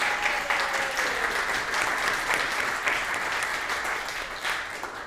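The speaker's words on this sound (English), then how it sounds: "Let's have another round of applause for them." Applause from an audience at an Imbolc community gathering, steady clapping that holds for several seconds at moderate distance, dense and even, with no voices over it.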